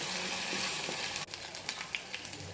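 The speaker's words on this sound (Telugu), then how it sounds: "ఇది పచ్చివాసన పోయి ఆయిల్ అంతా పైకి తేలేంత వరకు ఫ్రై చేసుకోవాలి" Ground garlic, onion and green chili paste sizzling in hot oil for palak paneer, a steady soft frying hiss that drops briefly, then continues with light crackles and stirring sounds.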